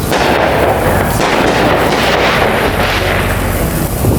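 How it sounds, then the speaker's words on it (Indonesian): Dense, continuous crackling and booming of New Year's Eve fireworks set off close by in a backyard, a loud unbroken barrage of pops and bursts with no clear gaps. "main kembang api di belakang rumah"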